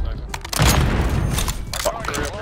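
Semtex grenade explosions and gunfire in a shooter video game: loud booming blasts and rapid shots packed into a few dense seconds, with a voice talking at times.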